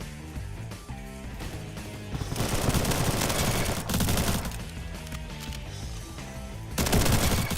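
Shotgun and other gunfire in the Roblox shooter Bad Business, heard as loud, dense, rapid bursts of shots that keep going throughout.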